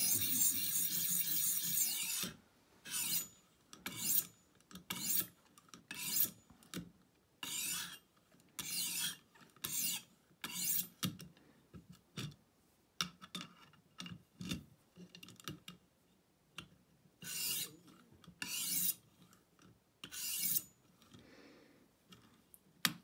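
A Fort Bridger mountain man knife being sharpened on a 600 grit stone, repeated rasping strokes in regular bursts with short pauses between, close and fairly quiet, no voices.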